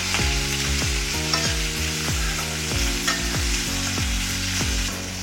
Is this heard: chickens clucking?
no